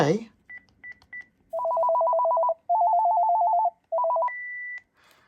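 A Panasonic KX-TGU432 cordless phone handset plays short electronic beeps followed by a warbling trilled ringtone in several bursts, ending in a single sustained higher tone. Each sound is close and clean, separated by near silence.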